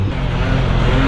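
A 2018 BMW S1000R motorcycle threads through city traffic, its engine a loud, close, steady rumble mixed with road and wind noise and no talking.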